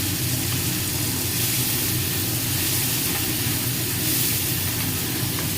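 Salted onion frying in a pan for a vegetable curry produces a continuous even hiss, close and unbroken, with no voices over it.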